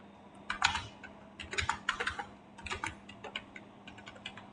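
Typing on a computer keyboard, a fast run of crisp, close key clicks in uneven bursts, quiet and alone over faint room hum.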